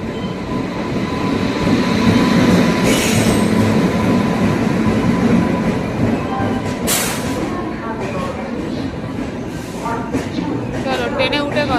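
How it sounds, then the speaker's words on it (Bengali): The Dhubri Rajdhani Express pulls into a station platform with a loud, close rumble of rolling wagons, metallic clatter and brief squeals, and people talk over the noise. "ট্রেন আসছে, ধুবড়োগড় রাজধানী এক্সপ্রেস ট্রেন দিয়ে দিয়েছে 3 নম্বর প্ল্যাটফর্মে"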